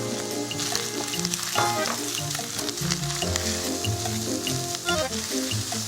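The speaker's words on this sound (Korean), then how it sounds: "또 이제 얘를 넣고 볶는데 파마늘 향까지 날 때까지 볶아주시면서 고기를" Meat sizzles steadily in a hot pan as it is stir-fried with scallion and garlic, with constant frying crackle and faint scraping of stirring, while background music plays.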